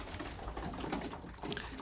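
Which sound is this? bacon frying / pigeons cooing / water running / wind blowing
pigeons cooing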